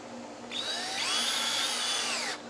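A power drill drives a screw into wood while building a plywood sawhorse, one steady whirring run of about two seconds that rises slightly in pitch as the screw bites, close and alone with no talk.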